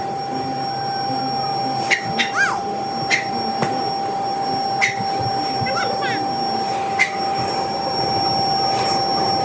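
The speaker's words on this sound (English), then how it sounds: "Now I'm gonna go ahead and just vacuum my couch" A vacuum cleaner drones continuously at close range while cleaning a couch, with a steady high whine and occasional clicks and bumps from the nozzle against the upholstery, as a voice talks faintly underneath.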